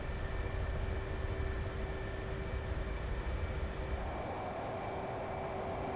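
F/A-18C Hornet in the DCS World combat flight simulator on carrier catapult launch, a steady broad jet engine roar with a faint tonal whine, holding constant before thinning slightly near the end, no speech.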